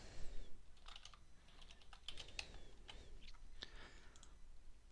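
Quiet clicking on a computer keyboard as a project description is entered, with irregular bursts of keystrokes and short pauses, close and alone without talk.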